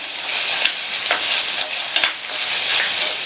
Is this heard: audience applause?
no